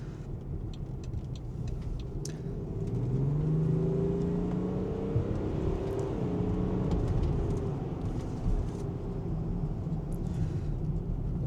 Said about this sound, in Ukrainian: відгук на КПП тут реально довший, і турбіна роздувається трохи подовше